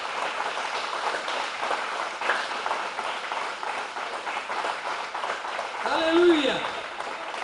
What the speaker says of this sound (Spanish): Regálele un aplauso a Jesucristo.